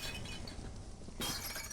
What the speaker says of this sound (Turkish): fırlatırsak fırının içine doğru fırının içinde patlıyorlar